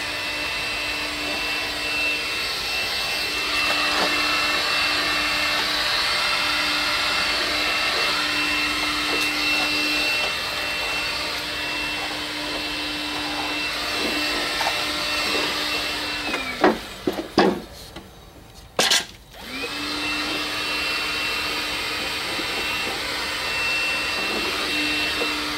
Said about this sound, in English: After a little bit of sucking with the vacuum cleaner, you'll notice that it kind of loses its power.